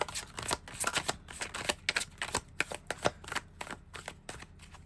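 A tarot deck is shuffled by hand close up, with quick riffling bursts and soft slaps in an uneven rhythm and no voice.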